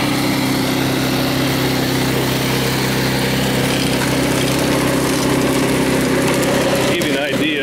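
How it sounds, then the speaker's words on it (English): A small gasoline engine drives a gold dry washer working gravel at the Potholes, a steady close drone with a constant hum that carries unbroken throughout. "how the dry washer is set up and running."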